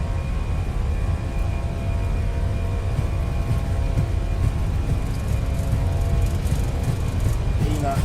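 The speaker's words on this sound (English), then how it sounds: "Take off power and set." Fenix A319 engines at takeoff power in Microsoft Flight Simulator 2024 at night, a steady loud roar with a low rumble and faint whine holding constant throughout.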